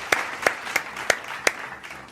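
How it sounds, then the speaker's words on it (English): Five single hand claps, spaced about a third of a second apart, sound crisp but fairly soft at close range in a quiet room. "I have to clap since I can."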